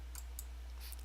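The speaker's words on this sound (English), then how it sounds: "I don't know if you heard my mouse clicking" Computer mouse clicks during a StarCraft 2 match: three or four quick, faint clicks over about a second, heard against a steady low electrical hum.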